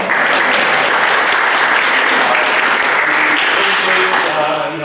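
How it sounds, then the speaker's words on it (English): Dense, loud applause from an audience at a university forum launch event, a steady wash of many hands clapping that fills the whole stretch before tapering slightly at the end. "A round of applause."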